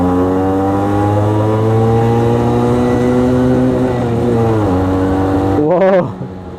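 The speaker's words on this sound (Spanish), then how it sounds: "Llega a máximas revoluciones," A Suzuki AX 100 motorcycle engine revs steadily upward toward its maximum, a loud, close, sustained buzzing whine that wavers and dips near the end before cutting off abruptly.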